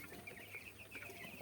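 Thirteen-day-old broiler chicks in a small poultry shed holding about 500 birds chirp and cheep continuously, a faint, busy chorus of overlapping high peeps.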